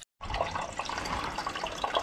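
Water drains in a steady, close rushing stream from a central heating radiator being emptied so the pipes will not burst in freezing weather, continuous after a brief silent start with no talking.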